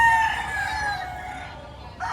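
A bull stag gamecock crows at a gamefowl farm in Padre Garcia, Batangas, one loud drawn-out crow that fades toward the end with a faint sound afterward.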